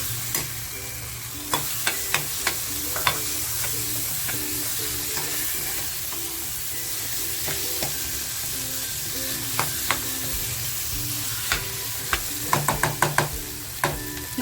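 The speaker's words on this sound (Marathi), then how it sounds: "आता जो टॅमॅटो घेतला होता कापून तो टॅमॅटो टाकते" Chopped tomato goes into a pan of frying prawn masala, giving a steady sizzling hiss broken by sharp scraping clicks of a spoon stirring, which cluster more densely near the end; no one talks.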